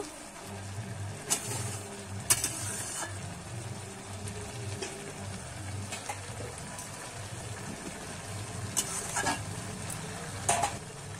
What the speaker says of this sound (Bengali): এবারে ভালো করে কিন্তু আমি একটু নেড়ে নেব